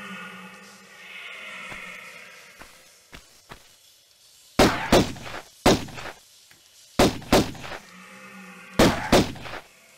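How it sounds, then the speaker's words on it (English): Gunshots from shooting monkeys in the 1996 video game Tomb Raider: sharp, loud pistol cracks in quick pairs and clusters, following quieter game ambience with a few soft thuds. "Now, let's shoot the monkeys."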